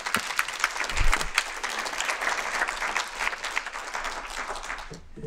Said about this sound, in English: let's give another round of applause to all of our panelists